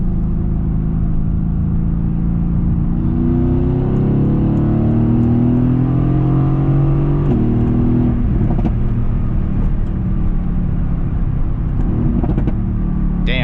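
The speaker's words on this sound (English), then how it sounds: "This car just sounds amazing. The downshifts are just lightning quick." A Mercedes-AMG GTS with 515 hp revs hard through its gears, the loud engine note climbing and dropping with quick shifts and crackles near the end, close and steady throughout with no talk.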